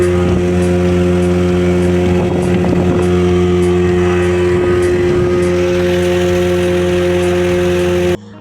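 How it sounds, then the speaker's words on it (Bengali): A loud, steady speedboat engine drone with strong tonal hum, heard up close with rushing wind and water noise throughout. "আমাদের স্পিডবোট চড়া কমপ্লিট হয়ে গেছে"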